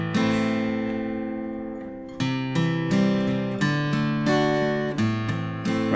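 Guitar strums the chords of a song with soft filler bass notes tucked between them, one long ringing chord followed by a steady series of picked and strummed chords, close and clear with no talk.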